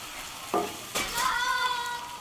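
Onions fry in a pan over a soft, steady sizzle, broken by a couple of sharp utensil knocks and a ringing metallic scrape.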